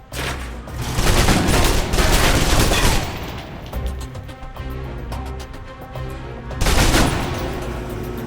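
Submachine guns fire in the Alpha Protocol video game, loud sustained bursts of rapid automatic shots with short pauses between them and heavy booming low end.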